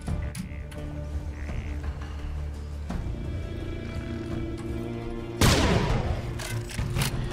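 Serious Sam 4 video game gunfire: a few sharp shots over a droning background score, with a louder burst near the end.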